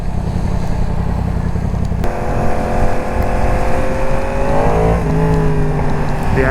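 2022 Yamaha MT-10 SP motorcycle engine revving in rain mode during a thunderstorm, a loud close roar that climbs and swells in pitch over steady road and wind noise, with no voices.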